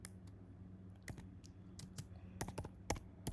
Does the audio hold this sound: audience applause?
no